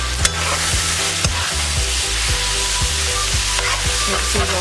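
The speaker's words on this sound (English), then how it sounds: "Mix these around." Seasoned mushrooms sizzle steadily in a hot pan while a spoon stirs them, a loud continuous frying hiss broken by regular scraping strokes, close up.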